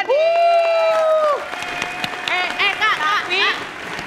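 Children clapping in a television studio during a variety show segment, with cheering under loud adult speech and harmonic vocal sounds throughout.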